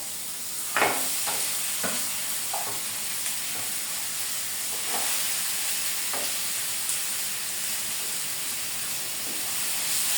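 Fried gulsha fish going into a pan of simmering tomato and black cumin gravy: a few clinks and splashes early on, then a steady sizzling, bubbling hiss close by.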